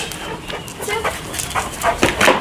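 A dog being trained gives a series of short barks and yips, close and clear, growing somewhat louder toward the end with no talk over it.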